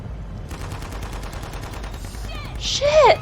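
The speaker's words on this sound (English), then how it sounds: "Surprise helicopter!" Rapid bursts of gunfire rattle over a low helicopter rumble in Shadow of the Tomb Raider, followed by sharp whistling, swooping effects that build to a louder finish.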